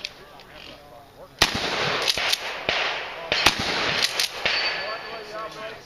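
Gunfire on an outdoor shooting range during a 3-Gun match at Ant Hill Range, with an AR15 rifle and a Glock 17 pistol. About ten sharp, loud reports come at an irregular pace, some close together, over a noisy background.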